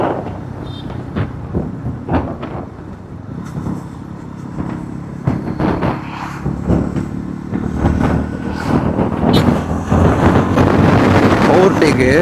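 A 350cc cruiser motorcycle in fourth gear pulling out to overtake, its engine drone rising steadily under strong wind buffeting, growing louder toward the end while a rider talks.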